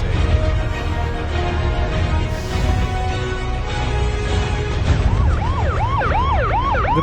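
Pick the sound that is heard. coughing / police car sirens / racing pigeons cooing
police car sirens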